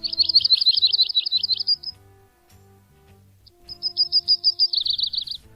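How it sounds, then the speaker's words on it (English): Yellow-rumped warbler singing two loud, clear trilled phrases of rapid sweet notes separated by a short pause, with soft low tones underneath. "Here's a typical yellow-rumped warbler song."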